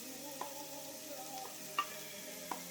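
Chopped onions sizzling in a pan as the first ingredient for osso buco, a steady soft frying hiss with a few faint clinks of stirring utensils at irregular moments.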